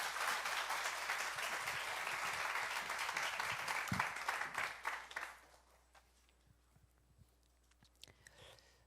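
A church congregation claps warmly to welcome a guest pastor, a dense burst of applause that fills the room for about five seconds and then quickly dies away into quiet room noise.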